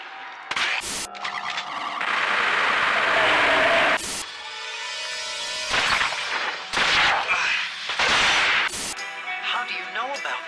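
Several sharp gunshots ring out in Momodora: Reverie Under the Moonlight, each a loud bright crack separated by pauses of a second or two, over a bed of game music and effects.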